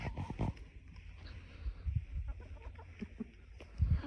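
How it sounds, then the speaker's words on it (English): Farmyard chickens cluck softly and intermittently around an animal pen, with short low calls scattered across the moment and a slightly louder burst near the end. "It's been really nice having the chickens"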